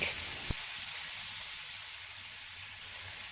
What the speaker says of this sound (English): add some oil to the pan and stir fry the beef until it is no longer pink